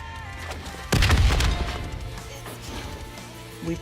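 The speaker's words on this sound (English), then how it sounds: "The explosion blocked our path." An in-game explosion in Black Ops 3 on Nightmare mode bursts loud and close about a second in, a heavy broadband boom that rumbles and decays over a couple of seconds, with lighter impacts after it.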